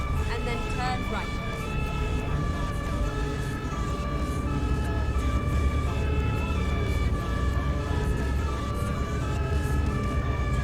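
Emergency vehicle siren from the real emergency vehicles AI sounds mod in Euro Truck Simulator 2, steady wailing tones running the whole time over rumbling truck engine and road noise.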